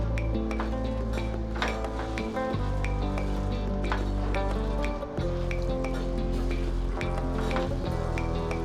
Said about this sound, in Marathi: त्याचबरोबर मिल्क पावडर घेतलेली आहे मी ती घालते एक वाटी ती पण छान मिक्स करून घ्यायची